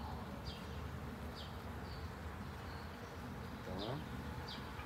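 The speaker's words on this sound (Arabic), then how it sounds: "لان النحل هايج هايج هيجان غريب جدا" Agitated honeybees buzz during the transfer of a small nucleus colony from a Langstroth hive to a Lens hive, with faint individual bees droning past close by against a quiet outdoor background.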